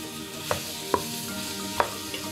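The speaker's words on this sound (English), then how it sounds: "we're going to add 2 tablespoons of this tomato paste and cook this down in the oil as well" Tomato paste and aromatics cook down in hot oil for bouillabaisse, a steady close sizzle punctuated by three or four brief sharp taps of a spoon stirring against the pot.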